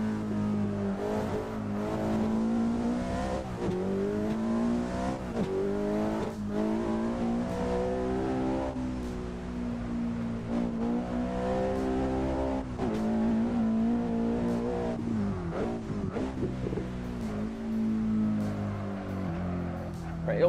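A Volvo S60R engine in a racing simulator game revs and accelerates continuously, its harmonic drone rising and falling through gear changes, with occasional tire noise and faint talk over it.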